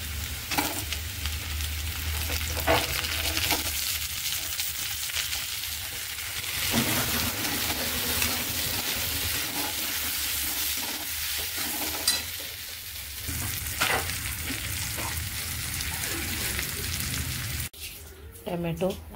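Onion and tomato fry in a pan with a dense, continuous sizzle and occasional stirring scrapes, accompanied by talking throughout; the sound cuts off abruptly near the end.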